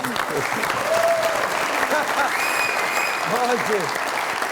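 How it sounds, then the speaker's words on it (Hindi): Studio audience applause on a Pakistani comedy talk show, steady clapping throughout with voices and cheering calls rising over it at moments. "बहुत सारी तालियां जमील भाई के लिए।"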